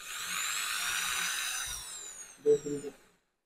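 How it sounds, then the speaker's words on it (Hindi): A power drill bores a hole into the centre of a lemon: a steady whirring buzz runs for about two seconds, then winds down, ending with a few short knocks and scrapes before silence. "ड्रिल से इस पे बिल्कुल सेंटर में छेद कर लेंगे ऐसे करके"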